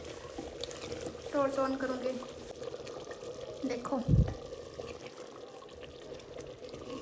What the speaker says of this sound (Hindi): तो मैं भरूँगी पानी की बाल्टी